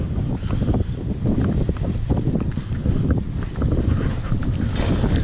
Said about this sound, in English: We got some wicked wind that we probably have to paddle straight into.